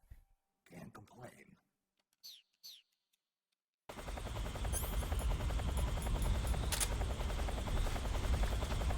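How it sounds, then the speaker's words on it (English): A helicopter in the video game Metal Gear Solid 3: after a few brief voice-like sounds and silence, a loud, steady rotor chop with rapid pulsing thuds and engine whine starts abruptly and runs continuously to the end. "I don't know if I can be spotted by the helicopter"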